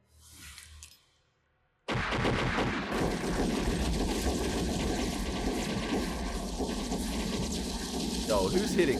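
Dense, sustained gunfire from an X-Files episode, a continuous barrage of shots and chaotic crackle that starts abruptly after a brief quieter opening and continues loudly throughout.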